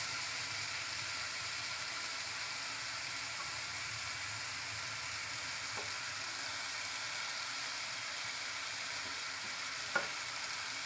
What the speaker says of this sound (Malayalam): നന്നായിട്ടൊന്ന് മസാലയൊക്കെ ഇളക്കി യോജിപ്പിച്ച് കൊടുക്കുക.